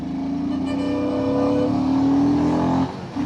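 A Himalayan motorcycle rides over a rough patch of road, its engine droning steadily at close range with a rising hum, then dipping briefly near the end.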